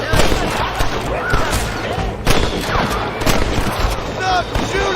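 Rapid gunfire crackles through a chaotic Red Dead Redemption shootout, bursts of shots and sharp bangs overlapping densely and loudly, with voices shouting amid the firing.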